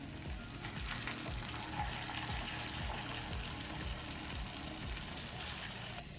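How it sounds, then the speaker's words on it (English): Shiro, a spiced Ethiopian chickpea stew, being stirred with spiced butter and water in a pot: steady close sizzling and bubbling with repeated scraping strokes of the spoon, continuous and without talk. "we're just gonna stir it around and make sure that it mixes good"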